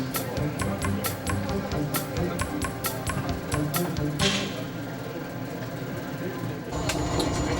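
A red freight train rolls along the track with a steady rumble and rhythmic clicking of wheels over rail joints, while a voice talks over it.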